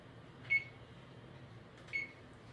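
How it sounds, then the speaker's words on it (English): A kitchen timer beeps twice, about a second and a half apart, while a brined chicken roasts; short, clear, fairly faint tones over a quiet room hum. "My timer just went off."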